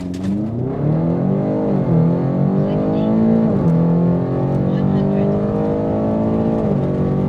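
A stock BMW X5M F85 launches from a standstill on a 0-100 km/h run. The loud engine note climbs steadily, and the pitch drops at each gear change. Voices are faint beneath the roar.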